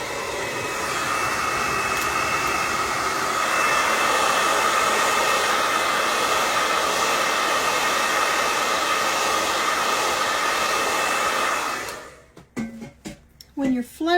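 A hair dryer blows steadily to dry paint on a rustic sled, a loud continuous whoosh for about twelve seconds before it cuts off and a voice speaks.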